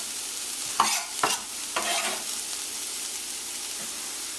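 Grated carrot is stirred into pumpkin rice in a hot pan, giving a few scraping strokes over a steady soft sizzle. The scrapes cluster early and then fade to the sizzle alone.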